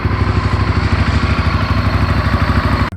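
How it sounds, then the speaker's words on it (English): A Honda VTR1000 Firestorm V-twin idles close by, putting out a loud, steady, lumpy throb with an even pulsing beat that runs the whole time before cutting off at the end. "the bike was running like 10 minutes, getting warm, the fans kick in, everything seems to be fine"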